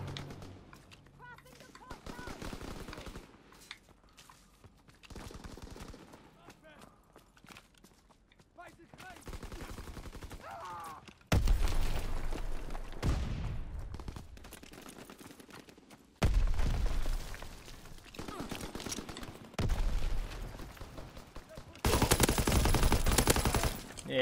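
Gunfire from Call of Duty: WWII Team Deathmatch on Xbox One: bursts of automatic fire and loud shotgun-like blasts come in several separate loud stretches among quieter game noise, with players talking over parts of it.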